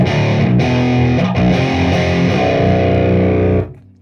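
A baritone electric guitar plays a thick, heavily distorted low metal riff, loud and sustained before cutting off and fading in the final half second.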